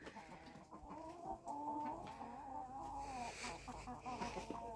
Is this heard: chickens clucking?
yes